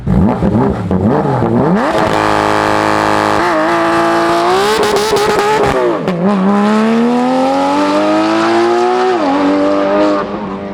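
Porsche 911 convertible accelerating hard away: a loud, close engine howl that climbs in pitch through several gear changes, with a sharp rasping shift, then a long sustained rising pull that fades slightly at the end.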